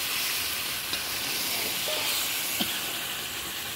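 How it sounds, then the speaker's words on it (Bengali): Masala spices frying in a pan while a fish curry is cooked, a constant hissing sizzle close by with a couple of brief clinks of a utensil, no talking. "কতক্ষণ থেকে মশলা ভাজছি"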